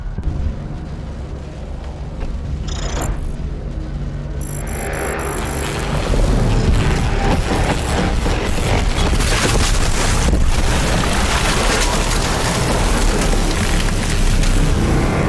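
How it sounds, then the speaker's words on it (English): A main generator overloading in the sci-fi shooter Doom Ethereal, a deep roaring rumble that swells after a few seconds and then holds loud and dense, with a brief high electronic tone near the start and no talk. "The generator is overloading."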